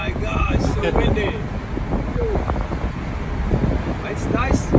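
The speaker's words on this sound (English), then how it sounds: "Oh my gosh, so windy." Gusty wind roars and buffets the microphone steadily on a street in Istanbul, with people chatting faintly underneath.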